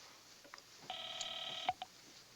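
A rotary-free touch-tone telephone being dialed in a 1950s crime drama, one long steady multi-tone keypad beep followed by two short clicks, fairly quiet with no talk.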